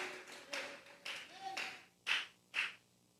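Congregation in a church clapping: a handful of spaced hand claps in an uneven rhythm, faint and fairly distant, the last two louder and sharper.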